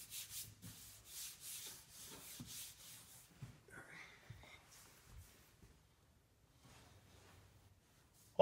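Metal blades scraping vinyl wrap off the body of a Lamborghini Countach replica, in close, rough, repeated strokes that are steady at first and then fade to quieter, sparser scrapes.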